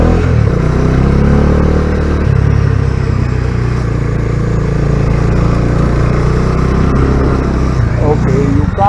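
A Bajaj Dominar 250 motorcycle engine hums steadily at mid revs while riding a zigzag road, with continuous wind rumble and a rider talking over it throughout.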